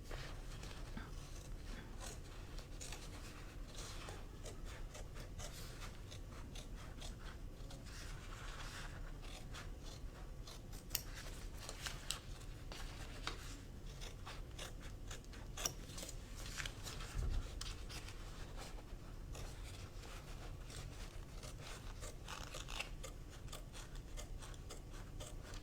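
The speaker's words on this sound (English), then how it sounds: "we're gonna take that duckbill scissors and we're gonna go ahead and trim all the way around" Duckbill scissors trim around machine embroidery in a continuous soft rasping and scraping of blades against fabric, faint and close, with occasional small clicks and no talking.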